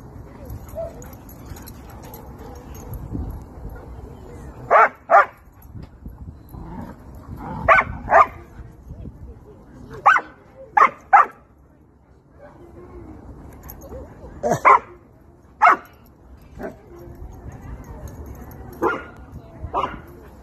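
German shepherd dogs at a playground bark in short, loud, separate bursts, some single and some doubled, spread across about twenty seconds, with soft whimpers and people talking in between.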